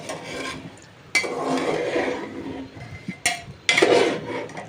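A spoon scrapes and rubs against a pan as soaked rice is gently mixed into spiced potato and pea vegetables for aloo matar pulao, with soft rasping strokes in close, uneven bursts and no talking.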